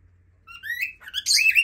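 A pet cockatiel or lovebird chirps indoors, a few clear rising whistled notes followed by a brighter burst of quick tweets, close and moderately loud with no talk.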